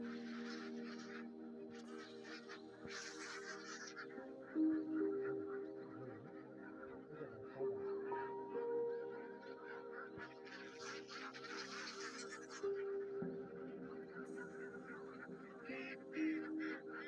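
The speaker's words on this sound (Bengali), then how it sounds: "এখানে অনেক হাঁস রয়েছে।" A flock of ducks on a duck farm beside a Jessore lake, quacking repeatedly in overlapping calls at moderate distance, with a steady low background hum throughout.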